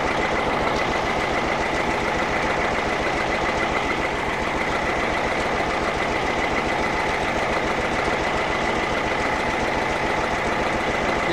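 An M35 deuce truck engine idles low while winching, a steady loud diesel rumble with an even knocking pulse throughout, close and continuous with no talking.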